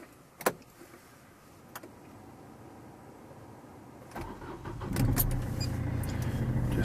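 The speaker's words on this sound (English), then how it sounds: "we'll start the car up." A car is started after a few faint clicks and thumps: the engine catches with a rising rumble, then settles into a steady idle close by.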